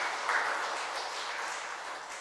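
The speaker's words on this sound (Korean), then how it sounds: "박수로 한번 격려해 드리세요." Steady, fairly quiet applause from a church congregation during a Sunday morning service at a Baptist church, a dense wash of clapping without distinct individual claps.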